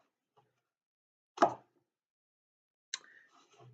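Cornstarch-and-water goo being stirred gives two separate wet plops, a sharp one followed by a softer squelch, with near silence between them.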